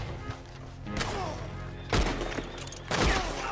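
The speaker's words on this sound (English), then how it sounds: "I was shooting at the man before them." Gunfire in the video game Red Dead Redemption 2, with a few heavy shots landing about a second apart as sharp thuds over a steady game backdrop, fairly close and loud.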